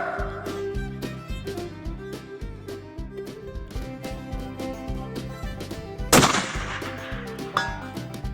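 A Bergara B-14 rifle fires at a 400-yard target: one sharp, loud crack bursts out over a steady, rhythmic background noise, and nobody speaks.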